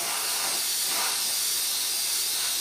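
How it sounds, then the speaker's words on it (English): An airbrush blows plain air in a steady, close, even hiss without a break, drying paint on a 1/48 Airfix Canberra model kit. "all we'll do is cut to air, just air alone, and just dry it down"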